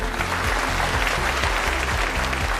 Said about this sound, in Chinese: 让我们掌声欢迎他们